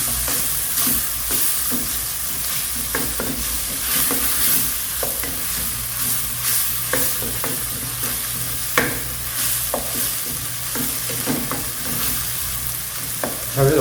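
Onions saute in butter in a pan with a loud, close sizzle, broken by frequent scraping stirs of a utensil across the metal and no voices.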